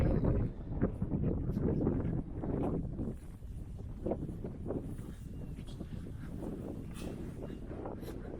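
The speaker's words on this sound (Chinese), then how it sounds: "今天你们看风很大，可以把尘土全部扬走" Strong wind buffets steadily across open Tibetan herding ground where dung is gathered from a sheep pen, a continuous loud roar with gusty swells and rustling, and no voices.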